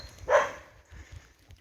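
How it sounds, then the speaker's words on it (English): A chained-up dog at a campsite along Offa's Dyke between Knighton and Brompton gives one loud bark, followed by softer, fainter low sounds, heard from a short distance. "Looking at that dog through there."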